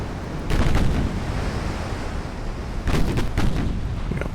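Several destroyers fire their guns in the naval strategy game Ultimate Admiral Dreadnoughts, with two clusters of heavy booming blasts over a constant roar of sea and wind. No one speaks.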